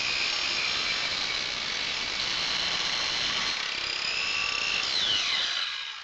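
Power saw cutting 75x100 mm timber rafters on a house extension build, a loud continuous whining grind that holds steady throughout and tails off slightly at the end.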